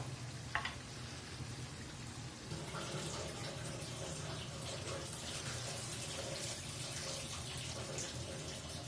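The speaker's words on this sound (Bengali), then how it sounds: "ঝোলের পানি অ্যাড করে দিব।" Water poured into a pot of potato curry being cooked for its broth, a steady hissing pour and bubbling sizzle that runs continuously at low level, with no talking.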